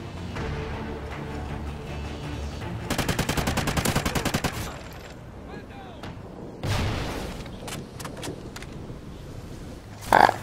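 Rapid automatic AK rifle fire in the video game Call of Duty Ghosts comes as a tight, fast burst of evenly spaced shots, followed later by a heavier blast and scattered game sounds, with faint talk in the background.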